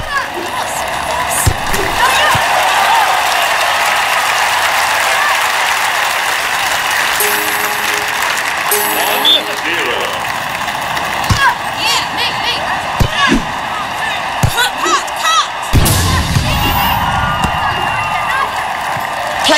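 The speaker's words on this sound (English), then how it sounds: "the crowd are absolutely loving this" A dense, steady roar of a cheering crowd in the London 2012 Olympic Games video game during a tennis-style serve, loud and continuous, with scattered thumps and a commentator talking over it.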